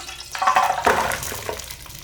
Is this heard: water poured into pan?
yes